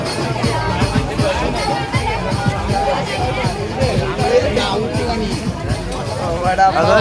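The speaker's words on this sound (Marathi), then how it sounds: "गर्दी बघा मित्रांनो फक्त" Dense crowd chatter fills the entrance of a busy hillside temple during a Dussehra visit, a steady close babble of many overlapping voices with a nearby speaker talking over it.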